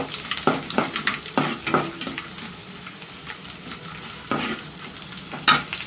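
Garlic and spices sizzle and crackle in oil while a spoon scrapes and stirs in a pan, with repeated stirring strokes and no talking.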